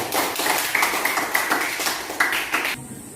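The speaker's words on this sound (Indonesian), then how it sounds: "tepuk tangan untuk kelompok 1" Light scattered clapping for a student group in a classroom, soft and uneven with a few sharper claps, ending in a brief tonal electronic ping.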